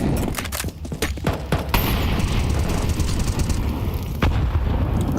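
Counter-Strike grenades and fire in a pro match, a dense run of sharp bursts and booms at the start giving way to a steady roar of flames, with another blast late on.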